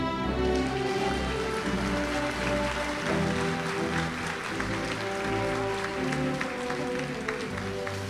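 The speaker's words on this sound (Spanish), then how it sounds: "Palmas, pero así estruendosas." Loud applause at a university leadership academy graduation ceremony, a broad sustained roar of clapping over music with low tones underneath, continuous throughout.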